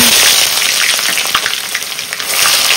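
Chopped onion hits very hot oil already seasoned with whole garam masala spices, giving a loud, dense, continuous sizzle with crackling bursts and occasional stirring scrapes, no voices.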